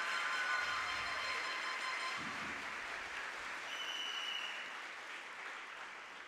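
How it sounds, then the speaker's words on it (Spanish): Steady applause from a crowd at a regional oratory competition final, fairly loud at first and gradually thinning toward the end. "Reconozcamos su talento con un caluroso aplauso"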